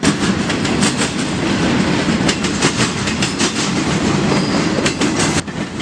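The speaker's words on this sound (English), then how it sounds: "This train originating from who knows where and going down to Galveston to pick up some wind turbines" A long freight train hauling empty wind turbine holders on flat cars rolls past close by, a loud steady rumble with continuous clickety-clack from the wheels over the rail joints.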